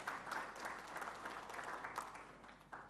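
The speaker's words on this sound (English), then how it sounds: "Please welcome him with a big round of applause." An audience at an auto industry panel forum gives a round of applause, a faint, steady wash of clapping heard from a distance for about three seconds.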